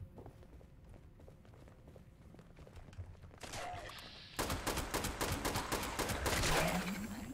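Handmade rifle fire in Fallout 76, a few scattered shots giving way to sustained, dense bursts that grow louder and closer toward the end, with footsteps and game ambience underneath.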